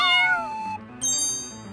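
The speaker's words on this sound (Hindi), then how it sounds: "कहाँ गया बिल्ली का बच्चा?" A kitten gives high, clear meows, one falling cry followed after a brief pause by another bright mew, close and fairly loud with no speech.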